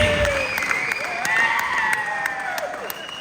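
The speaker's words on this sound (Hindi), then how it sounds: "ताली किस बात की बजा रहे हो" Audience applause at an indoor gathering, a soft steady patter of clapping held under ongoing voices and talk.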